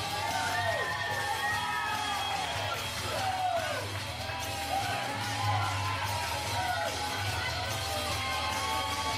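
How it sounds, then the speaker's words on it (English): A wrestling crowd in Chester, South Carolina cheers and whoops as a wrestler makes his entrance, with loud continuous roaring, shouts and whistles throughout. "Crowd coming alive here in Chester, South Carolina for John Skyler."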